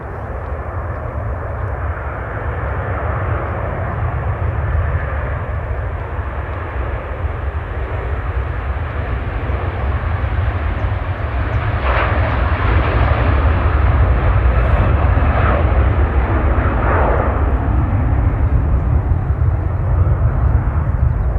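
A Virgin Atlantic Boeing 787 Dreamliner jet airliner takes off at Manchester Airport, its engines a loud, steady broadband roar that builds gradually and holds for the full length, with no talking.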